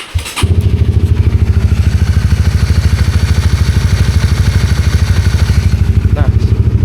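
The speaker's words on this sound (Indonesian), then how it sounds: "untuk suara mesin masih enak" Motorcycle engine on a long touring trip across Borneo, starting with a short clatter, then running at a loud, close, steady idle with an even, rapid pulsing beat throughout.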